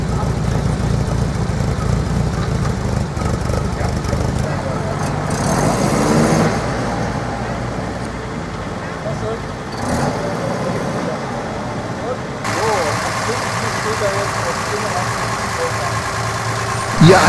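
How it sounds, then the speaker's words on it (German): A 1965 Volvo PV 544 classic car with 120 hp runs at a historic vehicle rally, its engine a steady low rumble throughout, with other vehicle noise and some shifts in the background. "Hier sehen Sie einen Volvo Buckel PV 544 aus dem Jahr 1965 mit 120 PS."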